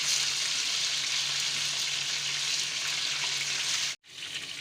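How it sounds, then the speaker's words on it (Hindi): Boneless chicken pieces fry in a pan with a loud, dense, continuous sizzle close by that cuts out abruptly near the end and then resumes more quietly. No one speaks. "2 से 3 मिनट हम फ्राई करेंगे क्योंकि ये बोनलेस है और ये जल्दी गल जाता है।"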